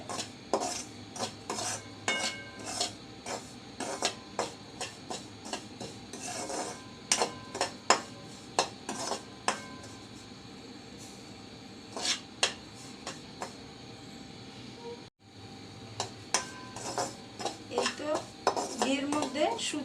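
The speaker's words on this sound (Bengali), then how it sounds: "ভালো করে ঘিয়ের সাথে সুজিটা বেজে নিচ্ছি" Semolina roasting in ghee in a pan, stirred with repeated sharp scrapes and clinks of a spoon against the metal, a faint sizzle underneath, close by with a short break in the middle.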